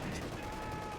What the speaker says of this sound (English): They are mortaring this quite heavily